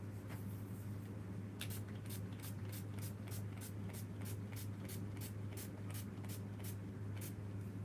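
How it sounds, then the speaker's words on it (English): NYX Marshmallow setting spray is misted onto a face in a rapid, steady run of about fifteen short hissing spritzes over a constant low hum. "The setting spray I've been using recently is from NYX, and it's the Marshmallow setting spray"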